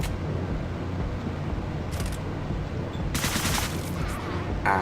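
Gunfire from the video game Deadbolt sounds as rapid, dense bursts over a constant mechanical background, with a few sharper crackling volleys toward the end.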